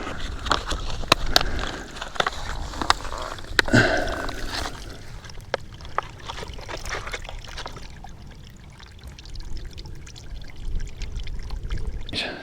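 Water from a small hillside stream running and trickling into a container while it is collected, with a steady pouring gurgle, a few sharp knocks and splashes, and then a softer flow toward the end.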